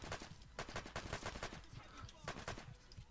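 Gunfire in the game Fallout London, with quick bursts of loud, close shots in a rapid volley, then a second short burst after a pause.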